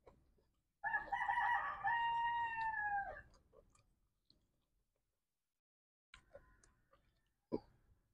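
A single chicken call rings out nearby, a drawn-out crowing note followed by a few short clucks after a quiet pause.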